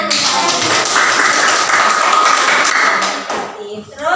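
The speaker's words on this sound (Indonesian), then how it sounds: "Tepuk tangan." A classroom of students claps together on a teacher's call during a lesson, a dense, steady burst of hand claps that runs loud for about three seconds and then tapers off, with faint voices around it.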